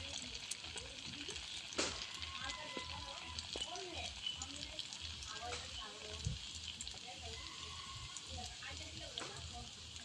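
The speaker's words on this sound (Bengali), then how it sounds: "এই যে আস্তে আস্তে ফুলে যাচ্ছে, তেল গরম হলেই দিলে তারপর ফুলে যায় সুন্দর করে।" Dough fries and puffs up in hot oil, giving a steady bubbling sizzle with scattered pops and crackles over about ten seconds, close and moderately loud throughout.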